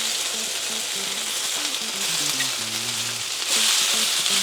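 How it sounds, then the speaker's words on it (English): Curry sausages sear in a hot oiled pan, giving a steady, loud sizzle with fine crackling throughout, swelling slightly toward the end, with no talking. "a bit of oil, get it nice and hot, and let's go and sear these"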